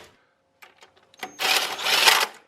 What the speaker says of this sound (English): I'm going to use the impact to drive it down till they're